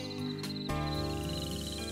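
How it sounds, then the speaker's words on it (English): A steady high-pitched cricket chirring runs continuously over a humming background, with a couple of soft knocks early on. "The crickets make music just like me."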